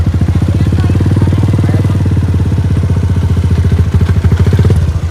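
A motorcycle engine runs close and loud with a steady, rapid putter, holding an even idle-like rhythm for several seconds before roughening slightly near the end.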